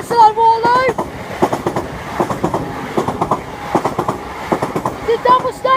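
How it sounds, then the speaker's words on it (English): Train passing the Waterloo Road level crossing in Berkshire: rhythmic clickety-clack of wheels over rail joints, up close and loud, with tonal horn or warning notes at the start and the end. "Warning, another train is approaching."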